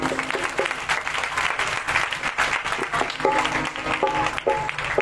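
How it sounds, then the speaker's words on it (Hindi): Congregation clapping loudly during an open-air Christian praise and worship service at a slaughter house in Lyari, Karachi, a dense continuous wash of hands under music and singing, with voices heard throughout. "जोर से ताली बजाएं।"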